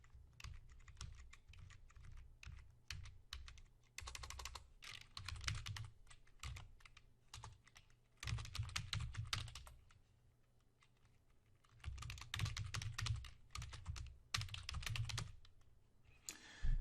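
Typing on a computer keyboard while entering a cell comment in an Excel spreadsheet, rapid close clicking keystrokes in several bursts separated by short pauses, with no talking.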